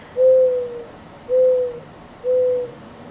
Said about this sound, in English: that owl is really close